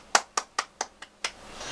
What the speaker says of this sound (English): I have to give a hand of applause to the Freedom Riders right now